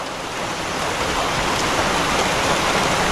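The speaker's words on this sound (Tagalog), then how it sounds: "yun na naman, ulan na naman." Rain falls steadily on an okra field, a dense, even hiss of drops from nearby that holds at a constant level throughout, with no voices.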